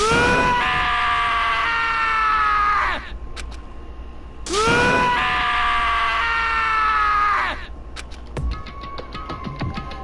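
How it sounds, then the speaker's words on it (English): Taka in the DanganRonpa video game lets out two long, loud, anguished screams, each trailing off, with faint game sounds in the gaps. "As Taka's sad screams invaded our skulls"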